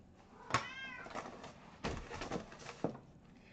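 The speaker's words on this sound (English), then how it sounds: "I don't think y'all want to hear her meowing for another hour" Cat meowing for wet food in a home, two or three separate meows of varied pitch, close and fairly clear over quiet room tone.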